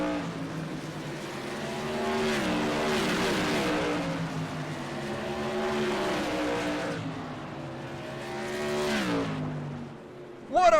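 Modified race cars at New Smyrna Speedway in a racing video game, several engines droning and revving in a continuous, rising and falling roar with high-pitched whines as they sweep through the turns, ending in a sudden loud burst.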